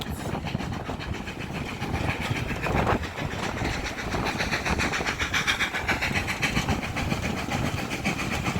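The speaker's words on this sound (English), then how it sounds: "7828 on the Manor on the West Somerset Railway, having stopped at Stogumber and now heading towards Oakham." GWR Manor class locomotive 7828 running on the West Somerset Railway after leaving Stogumber, giving a steady, continuous rumble of the train with faint rhythmic clatter throughout, no voices.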